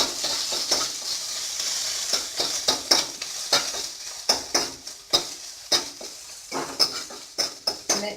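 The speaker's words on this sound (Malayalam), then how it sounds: "ഇത് നമ്മൾ ഇതൊന്ന് വഴറ്റിക്കണം." Crushed shallots, ginger and garlic sautéing in a pan over low flame, a quiet sizzle broken by many rhythmic scraping strokes of a spoon against the pan, close and without talk.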